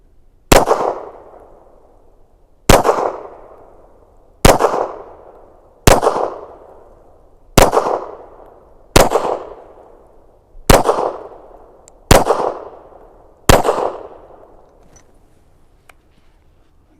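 A Ruger Security 9 pistol fired at an outdoor range from 7 yards: eight loud, sharp single shots spaced about one and a half seconds apart, each followed by a short ringing decay.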